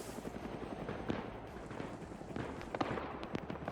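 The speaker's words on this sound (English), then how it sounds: "he is now getting shot at by possibly the helicopter" A helicopter firing in the Arma 3 video game, with scattered faint cracks of gunfire over a steady rotor-like rumble, distant and quiet.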